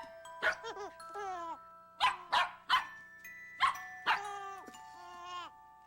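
Dogs bark at a toy in rapid clusters of sharp, yappy barks, some drawn out into whiny yelps. A steady electronic tone hums underneath. The barking is close and fairly loud.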